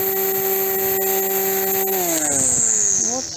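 A new electric grass trimmer runs steadily with a high whine and sustained buzzing tone. Near and loud, its pitch drops and wavers as the line bites into grass outdoors.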